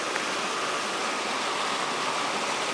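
Untreated factory waste water pours out directly, making a dense, steady rushing roar like a stream or small waterfall, continuous and unchanging, with no talk over it.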